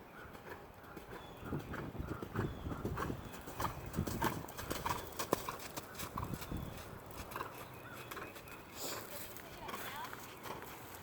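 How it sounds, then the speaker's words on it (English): A horse canters around an arena during a riding lesson, its hoofbeats clip-clopping in a steady rhythm at moderate distance while an instructor talks over it. "when you're ready, pick up a canter, and you're going to canter around to P."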